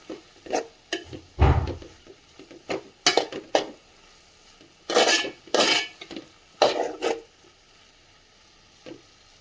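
Cucumber thoran with ground coconut paste being stirred in a pan, with irregular metallic scrapes and clinks of a spoon against the pan and quiet gaps between strokes.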